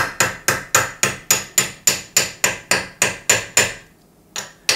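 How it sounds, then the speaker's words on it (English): A ball peen hammer taps a metal tube in a quick, even series of about a dozen sharp ringing strikes, close and loud, then a pause and one more tap. "if you tap it around with a ball peen hammer"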